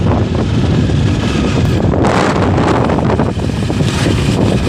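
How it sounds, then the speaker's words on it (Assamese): Strong wind gusting across the microphone, a loud rough rumble that roars steadily for a few seconds without any voices. "পুৰা ঠাণ্ডা বতাহ।"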